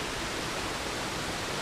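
Goit Stock Waterfall, a steady, dense broadband roar of falling water, continuous and fairly close with no voices.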